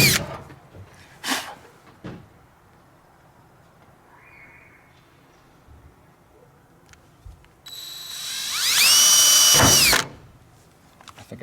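Power drill boring screw holes through the roof layer of a 1980-1986 Ford F-Series cab: a close, loud whirring burst of about two seconds, preceded by a few knocks and handling noises.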